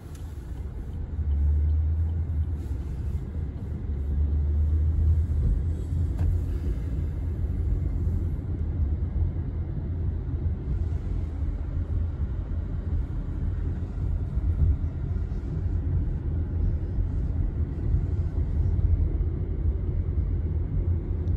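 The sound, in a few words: car interior rumble while driving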